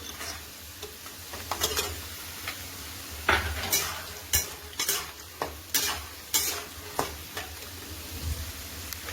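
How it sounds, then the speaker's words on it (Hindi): Fox nuts and almonds are sautéed in a pan, with repeated sharp scrapes and clinks of a stirring utensil over a low, steady sizzle. No one speaks. "अब हमें इसे सौटे करना है। अपने हम इसमें डालेंगे बादाम"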